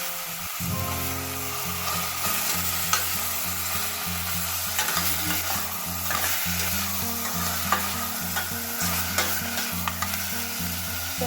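A pot of pork sinigang with puso ng saging gets stirred over a steady sizzle, the spoon scraping in a regular back-and-forth rhythm of repeated strokes, close and fairly loud, with no talking.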